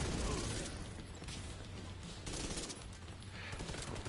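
Continuous rapid gunfire in the shooter game The Division 2, a dense, near fusillade of automatic shots running throughout without pause.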